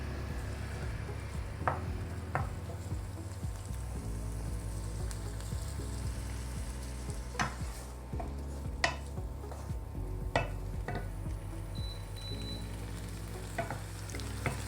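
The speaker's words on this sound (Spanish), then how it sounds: "Luego incorporan, en este caso, cebolla, acitrono un poco" Onion sautéing in a pan for a chicken dish, giving a steady close sizzle and frying hiss with occasional stirring scrapes and clicks, no voices.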